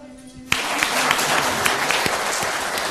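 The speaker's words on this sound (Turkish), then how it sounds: "Bir alkışlayalım" Applause bursts in suddenly from a crowd at a village highland festival in Turkey, moderately loud, steady mixed clapping with a few sharper claps standing out, after a brief quiet moment.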